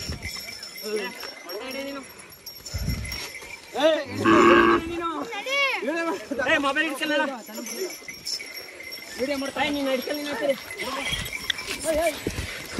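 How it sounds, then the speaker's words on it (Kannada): Village cattle run and moo during the Sankranti festival, with repeated loud, drawn-out lows from several cows overlapping as people talk nearby. "ಇವಾಗ ಹಸುಗಳೆಲ್ಲ ಬರ್ತೈತೆ"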